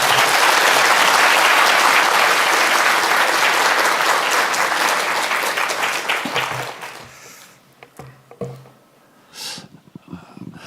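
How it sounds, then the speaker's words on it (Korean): A church congregation at a Sunday morning service applauds to welcome the pastor to the pulpit. The dense, loud clapping of many hands fills the room for several seconds, then thins and fades into scattered sounds and a brief voice. "크게 박수로 환영하겠습니다"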